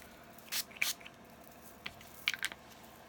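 A Stampin' Mist spray bottle spraying while a stamp block is cleaned: two quick hissing pumps, then a pause and two more short sprays, close and fairly faint against a quiet room.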